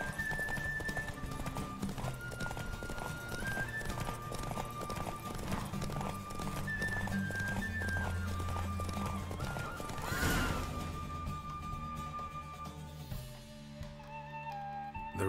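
Galloping horse hooves drum in a fast, steady clip-clop during a race in The Witcher video game, with a whinny rising near the end over a busy game soundtrack.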